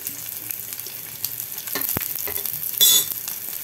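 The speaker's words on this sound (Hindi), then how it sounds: "इसे भून लेंगे हमको।" Finely chopped onion frying with cumin seeds in a hot pan, giving a steady close sizzle with soft stirring scrapes, a sharp tap at one point and a brief surge of hissing near the end, no talking.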